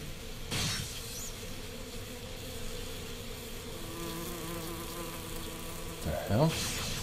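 A close, steady buzzing of bees or wasps drones throughout, with louder swells as insects fly near, and a few faint voices in the background.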